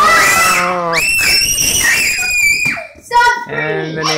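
Several children scream excitedly in shrill, sustained bursts during a popsicle-stick cobra weave chain reaction, with an adult's voice briefly mixed in near the end.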